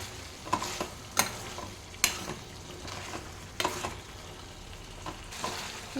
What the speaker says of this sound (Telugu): ఈ చికెన్ ఆయిల్లో మంచిగా ఫ్రై అవ్వాలి